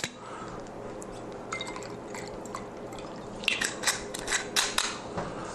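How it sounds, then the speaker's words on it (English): Gin being poured into a cocktail shaker at a home bar for a Long Island Iced Tea, quiet at first, then close trickling and splashing liquid with small clinks, brief and light. "Go ahead and pour that on into our mixer."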